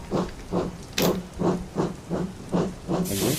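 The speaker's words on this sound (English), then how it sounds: "said Murdoch as he watched the A4 pull the train away" An A4 steam locomotive pulls a train away, its exhaust hissing in loud, evenly spaced chuffs about twice a second, with a brighter hiss of steam near the end.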